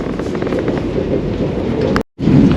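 A Vande Bharat express train runs on the rails, giving a loud, steady interior rumble and roar that drops out briefly near the end before resuming.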